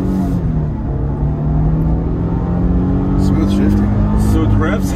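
A 2022 Nissan Frontier pickup's engine revving high inside the cabin, a low rising drone with a steady tone climbing over several seconds, heard under occasional talk.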